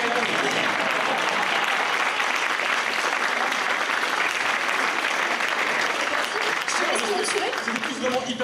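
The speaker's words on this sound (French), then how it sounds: "qu'on refasse un petit tour d'applaudissements pour les 11 autres candidats" Audience at a university thesis-in-180-seconds final applauds the other eleven candidates, a steady, dense clapping that fills the whole stretch without a break, loud and close, with a hint of crowd murmur underneath.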